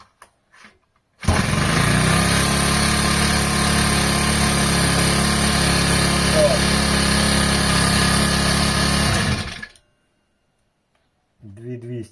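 A PROCRAFT T5600/S petrol brush cutter starts and runs at a steady, loud idle for about eight seconds, then cuts off abruptly, with a brief voice afterward.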